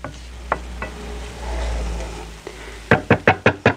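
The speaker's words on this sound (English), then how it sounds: "Give that a stir." Whole spices stirred as they toast in a hot pan for a ras el hanout blend, giving a soft sizzle with a few scattered knocks, then a quick run of five sharp, close spoon taps against the pan at the end.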